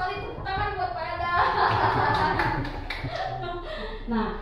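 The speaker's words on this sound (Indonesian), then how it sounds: "Iya betul sekali, tepuk tangan buat Pak Ada." A class of teachers and students clapping in a school setting, short, fairly close bursts of hand claps mixed with voices talking and some chuckling.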